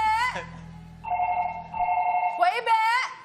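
A telephone rings with a steady electronic tone during a live call-in broadcast, sounding between bursts of voices and talk in the studio.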